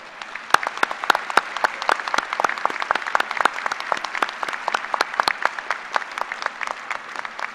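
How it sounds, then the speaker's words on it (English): Audience applause at a fall university engineering commencement ceremony, a dense, steady burst of many hands clapping with sharp individual claps standing out, sustained at an even level throughout without talk. "Let's recognize these individuals with a round of applause."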